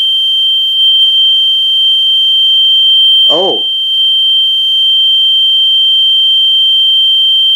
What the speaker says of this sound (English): I thought it was one of those code 3 fire alarm devices that EST usually sells, but no, this is the mini horn versions.